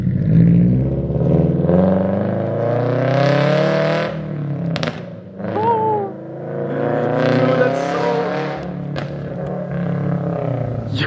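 Subaru BRZ with a UEL header and Tomei exhaust, loud engine revving and decelerating with crackles and pops, rising and falling in pitch, with brief voices in between.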